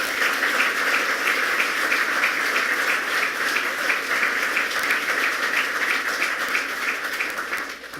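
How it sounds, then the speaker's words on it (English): A crowd applauds at a governor's announcement of the Western New York smart growth community winners. The clapping is steady and fairly distant, sustained across eight seconds and easing slightly at the end. "Let's give him a round of applause."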